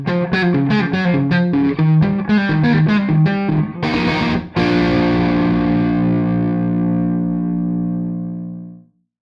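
An electric guitar plays loud, distorted single notes and chords through an AMT CN-1 Chameleon cabinet-modelling unit, then lands on a final chord that sustains and slowly fades away, with no voice.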